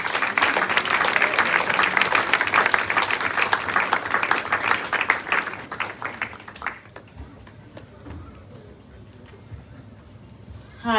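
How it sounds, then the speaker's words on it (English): Loud, sustained applause from a crowd at a funeral reception fills the room, dense clapping that gradually thins and fades after several seconds into quieter room noise. "Give them a big round of applause"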